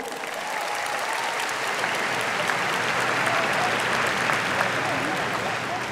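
Sustained applause from a large crowd at a high school graduation ceremony, honoring a school counselor; dense, steady clapping fills the full stretch at an even level with scattered cheers.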